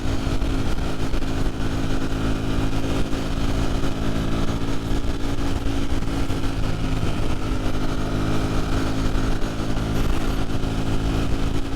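A Ducati Streetfighter V4 with an 1103 V4 engine is ridden in sixth gear, a loud, continuous engine drone mixed with heavy wind rush and no breaks.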